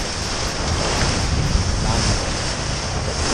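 Strong wind and surging waves batter a racing sailboat at sea in 20–25 knot gusts, a continuous loud roar of rushing water and wind noise across the mic with no break.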